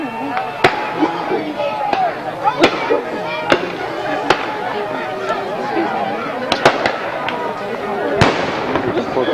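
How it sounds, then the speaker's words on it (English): Artillery batteries fire cannons at a Civil War reenactment, sharp distant booms spaced irregularly across a busy outdoor field while someone talks over them. "One of the batteries opening up, that was the second one firing, and as you can see there was the third one."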